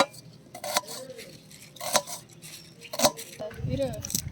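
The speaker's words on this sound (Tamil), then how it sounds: "இப்போ இந்த வெங்காயத்தை ஸ்லைஸாக நீளமாக அரிஞ்சிக்கணும்" A knife slices an onion lengthwise on a cutting board in a few sparse, crisp strikes over quiet kitchen background noise.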